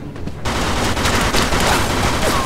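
Loud, dense gunfire in the crime action game Mafia 2: a sustained volley of close, rapid shots after a brief quieter moment.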